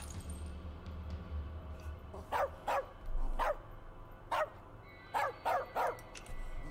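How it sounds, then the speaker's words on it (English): A dog in the As Dusk Falls video game barks in about seven sharp, loud, separate bursts at an uneven pace, over a low rumbling backdrop. "He's a dog. He doesn't have an off switch."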